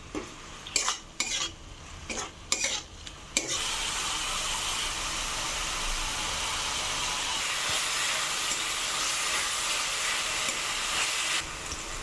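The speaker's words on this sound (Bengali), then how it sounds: "মশলাটা ভালো করে আমি কষিয়ে নেব যাতে মশলা থেকে তেল ছেড়ে দেয়।" Ground chili, coriander, cumin and turmeric sizzle in hot oil for chitol fish kalia; a few sharp scrapes of stirring come first, then a loud, steady frying hiss runs on without a break.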